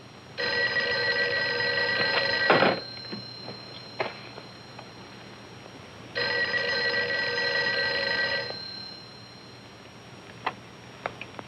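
An old telephone bell rings in a 1940s film scene, two long bursts of ringing a few seconds apart, each several seconds long and fairly loud over a quiet background of faint ticks.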